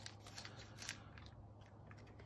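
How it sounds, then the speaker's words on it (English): A pencil being sharpened gives off a quiet, close, continuous scraping crunch with a few rhythmic strokes over a low background hum, and no one talks. "sharpen my pencil a little."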